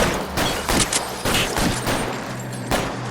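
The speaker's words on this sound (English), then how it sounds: "I'm shooting him" Gunshots in the video game LA Noire during a shootout, several sharp reports spaced irregularly over a few seconds, loud and close, with no talking over them.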